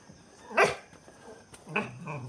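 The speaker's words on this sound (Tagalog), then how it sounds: "Mga aso." A couple of dogs bark sharply, two distinct barks separated by a short gap, at moderate distance against faint background noise.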